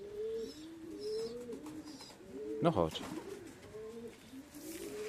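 Pigeons coo in a steady rolling series of soft, low calls close by, with a brief burst of wing flapping midway and someone speaking briefly.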